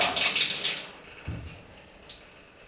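A bathtub faucet in a mobile home under renovation runs with a rushing hiss of water that fades after about a second, followed by a few faint drips and light knocks.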